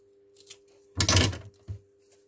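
Scissors snip through paper while a Wizard of Oz junk journal CD pocket is trimmed: one longer crisp cut followed by a short second snip, close and clear over a faint steady hum.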